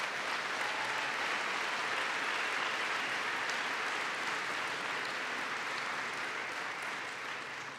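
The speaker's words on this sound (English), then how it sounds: "Let's give him a big round of applause." A large audience applauds Professor Alain Calleros at a political speech event with New York's governor, a dense, steady wash of many hands clapping that stays loud throughout and eases slightly near the end.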